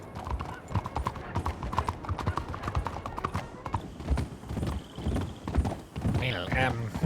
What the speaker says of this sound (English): Do you like being on the horsey again?